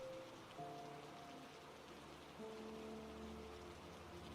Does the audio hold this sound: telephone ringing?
no